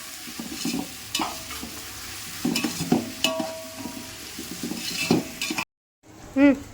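Onions frying in a pan for mushroom biryani, with stirring scrapes, light sizzle and utensil clatter throughout before a brief pause and a final clatter.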